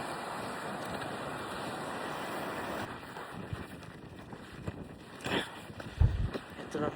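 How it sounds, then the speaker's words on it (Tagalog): Strong wind buffets the microphone in a constant roaring rush, with voices speaking faintly beneath it near the end. "Grabe ang hangin."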